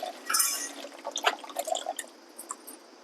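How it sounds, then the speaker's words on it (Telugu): Tamarind juice pours into a pot for a village-style pachi pulusu, giving splashy, liquid trickles and a few drips that start strong, then thin into scattered splashes. "చింతపండు పులుసు పోస్తున్నావా"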